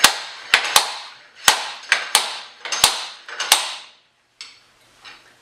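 A slide hammer pounding on a Jeep CJ7 Dana 30 axle shaft: sharp metallic impacts repeat about a dozen times in an uneven rhythm, each clang ringing briefly, close and loud, then a couple of softer knocks.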